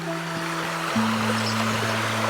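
The Criel river at Criel-sur-Mer, swollen after a day of heavy rain, rushes in a broad steady roar close by, with a low droning tone running under the water noise.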